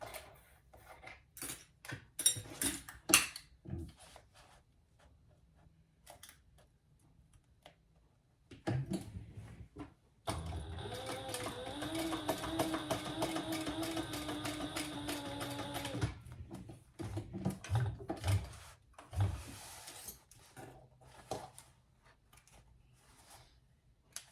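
A sewing machine runs in a steady, close whirring burst of several seconds, stitching tiny darts on a Tracy wristlet at a shortened stitch length, set between quieter handling clicks and rustles.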